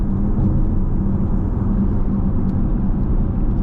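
A 2024 Porsche Panamera 4S on the move, its engine and road rumble filling the cabin as a steady, loud, dense low-frequency drone that holds level throughout, with no voices.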